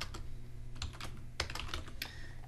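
Close computer keyboard typing in short irregular clusters of sharp key clicks, separated by brief pauses, over a faint steady background hum.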